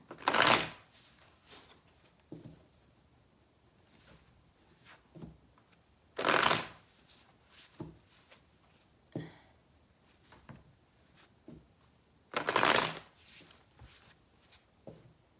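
Tarot cards are shuffled in three loud riffles spaced several seconds apart, with quiet handling, taps and shuffling noises in between.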